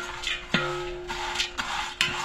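A spoon or spatula scrapes and clatters against a pan as chilies roast for Goan garam masala over a strong stove flame, with several distinct metallic stirring knocks amid a soft steady sizzle.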